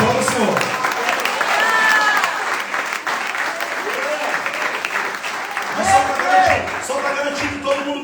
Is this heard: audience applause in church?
yes